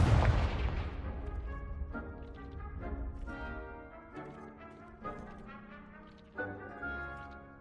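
A Confringo blasting spell detonates in the video game Hogwarts Legacy, opening with a loud, close boom that quickly fades into ringing, tonal game music.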